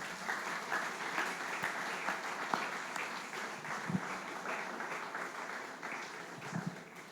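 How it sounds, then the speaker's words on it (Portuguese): A church congregation applauds together during a worship service, steady sustained clapping from a crowd throughout, fairly distant with a few sharper claps standing out. "Aplaude o Senhor Jesus."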